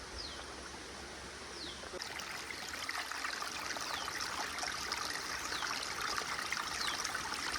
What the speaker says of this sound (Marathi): इकडून एक मस्त झरो वाहत आहे वरून